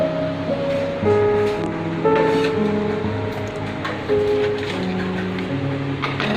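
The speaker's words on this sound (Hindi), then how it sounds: "इसमें गर्म पानी जाएगा। गर्म पानी अंदाजे से दीजिए" Hot water poured into a pot of mutton dal gosht, a loud, close, continuous rushing splash with changing tones as the pot fills.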